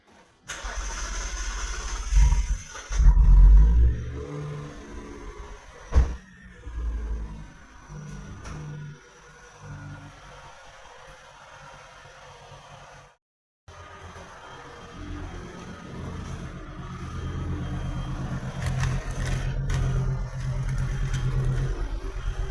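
Mitsubishi Magna (1996–2005 generation) engine cranking and starting after a fuel filter replacement, with a loud start burst followed by steady running at idle, heard close up in a home garage.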